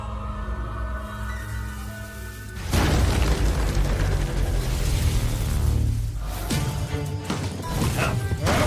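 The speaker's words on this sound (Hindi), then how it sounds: "धमाका।" A loud, sudden blast bursts in after a low humming background, followed by a sustained roaring rumble that slowly fades and surges again.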